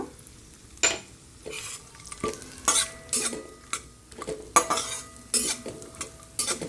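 Sunflower seeds being stirred and fried in a pan for pumpkin halwa, with repeated sharp scraping strokes of a spoon against the pan over a soft sizzle, close and fairly loud, no talk.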